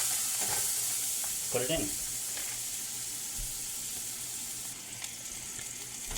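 Three pounds of ground beef sizzle in a preheated pan, a steady bright hiss close by with soft stirring scrapes, while a person speaks briefly at the start.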